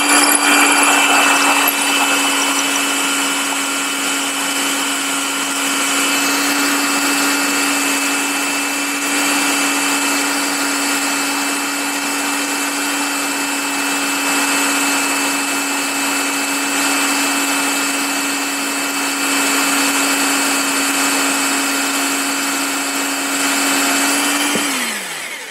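A drill bit boring into a surfboard, running as a steady high whine at a constant pitch for about twenty-five seconds before spinning down sharply at the end, loud and close with no talking.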